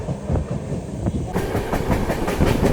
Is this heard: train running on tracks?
yes